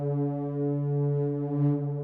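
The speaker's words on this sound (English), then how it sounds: "It's like 4 minutes long of a Swarmatron drone" A sustained Swarmatron drone sample, stretched across a keyboard in a Kontakt instrument, holds a steady buzzy low tone with thick stacked harmonics and slight wavering, soft and alone.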